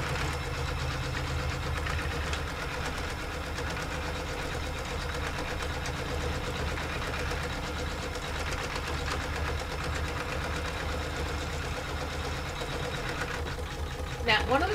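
A sewing machine hums steadily at close range while quilting through a quilt, running continuously with a mechanical whir and a brief clatter near the end.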